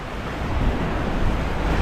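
Surf washing onto a long sandy beach with clear sea water, a steady broadband wash with wind rumble, close and fairly loud throughout, no talk.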